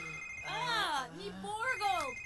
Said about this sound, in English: Ignore the phone.